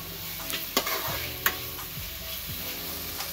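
Tomatoes fry and sizzle in a pan for pasta while a utensil stirs them, with a few sharp scrapes and knocks against the pan over a steady sizzle.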